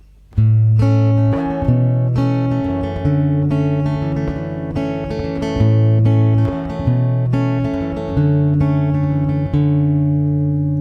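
Fingerpicked acoustic guitar with a capo plays a song's pattern, bass notes on the sixth string alternating with higher plucked strings in a steady, ringing arpeggio, close and clear with no talking.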